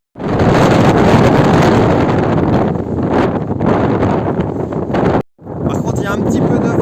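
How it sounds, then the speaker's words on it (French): A light wind blows in Kutná Hora, a Czech mining town, buffeting the microphone with steady roaring gusts that drop out briefly near the end. "il y a un petit peu de vent, un tout petit peu de vent"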